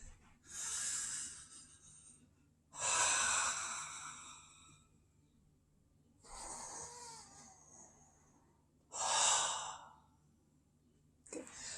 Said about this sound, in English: so that's the in-breath.